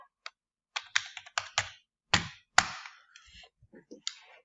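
A student ID is typed on a computer keyboard in a quiet room: a string of crisp, close key clicks in uneven bursts, a few heavier taps standing out, with no speech.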